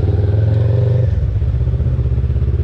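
A Honda CB500 motorcycle with a worn-out clutch idles and revs nearby, a loud throbbing engine drone that dips partway through, as if nearly stalling, and continues low and rough.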